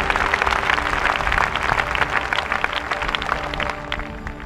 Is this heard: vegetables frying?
no